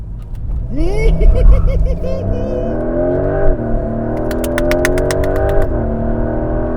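Porsche 911 GTS T-Hybrid accelerating hard to 60 mph, its engine note sweeping up through several gear changes with a rising howl, loud and continuous, while a voice talks over the run.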